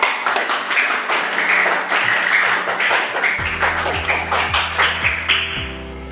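Applause for a student group in a classroom presentation, a brief burst of many hands clapping close by. Later it thins into scattered claps over a sustained electronic tone.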